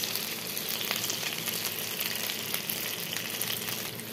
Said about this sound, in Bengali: ডিমগুলো ভাজা ভাজা হয়ে গেছে, এবার দিয়ে দেবো আমি সস